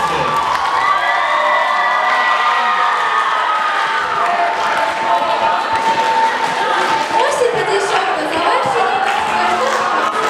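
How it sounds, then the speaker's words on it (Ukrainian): A large audience at a Chernihiv concert of the city's best performing groups cheers, shouts and applauds loudly and continuously, a dense crowd roar with children's voices and scattered claps. "ваші оплески."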